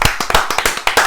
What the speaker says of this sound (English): Let's get a round of applause for Mike guy.